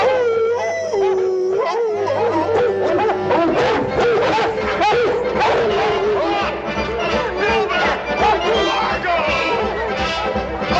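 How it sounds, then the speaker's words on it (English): Hound dogs howling together in a loud, continuous chorus of overlapping wavering howls and yips as they are let out, filling the scene without pause. "I'll let the dogs out as soon as you're set"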